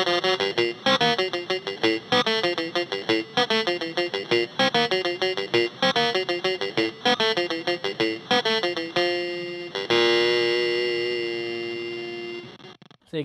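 An electric guitar played through a Hotone Krush bitcrusher pedal set fully wet gives harsh, gritty, digitally crushed notes in a quick rhythmic pattern, then a long sustained chord that slowly fades, loud and close.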